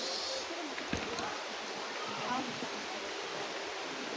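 Lokong Falls waterfall rushing as a constant broadband roar, loud and steady throughout, with a brief knock near the start.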